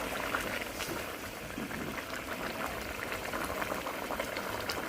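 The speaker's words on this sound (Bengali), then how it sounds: "তারপর ঝোল ফুটে গেল, মাছগুলো দিয়ে দিলাম।" Fish curry broth bubbles in a pot after the fish are added, a steady close simmering gurgle with soft popping bursts and no talking.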